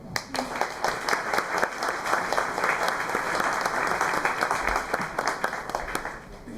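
A lecture audience at the New Bedford Science Café breaks into sustained, loud applause welcoming a speaker, many hands clapping densely and evenly for several seconds with no talking.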